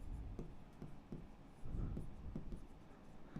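A pen writes out a math problem on paper, scratching strokes in a quick, uneven rhythm heard close up, quiet, with no talk over it.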